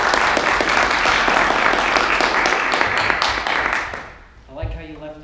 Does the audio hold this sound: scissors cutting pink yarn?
no